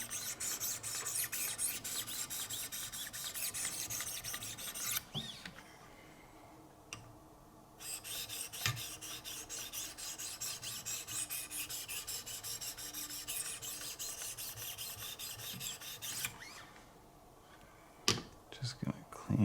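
Diamond stones on a Wicked Edge guided sharpening system rasp steadily along a Benchmade Altitude knife with an S90V steel blade, giving close, continuous scraping strokes with brief pauses near five and seventeen seconds.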